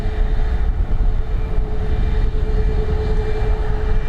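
Airliner climbing out after takeoff from Dublin Airport, a loud sustained low-frequency engine rumble with a steady droning tone running through it, close and unbroken, with no talk.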